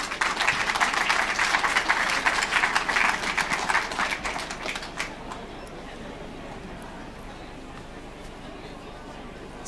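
A crowd at a talk on community nature-based risk reduction applauds. The clapping is loud and busy for about five seconds, then stops abruptly, leaving quiet room noise.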